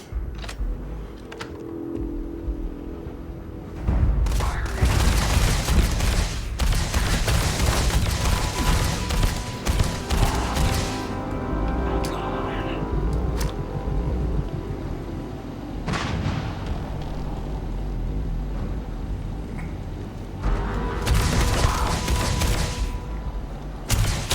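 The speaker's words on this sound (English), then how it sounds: "How the hell did he survive the grenade?" A grenade blast and bursts of gunfire fill a firefight in the video game Starfield, with loud booms and crackling shots recurring across a dense, rumbling battle.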